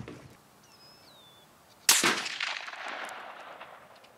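A single K31 rifle shot cracks loudly at an outdoor range, with a sharp report followed by a rolling, echoing tail, after a faint bird chirp in the quiet beforehand.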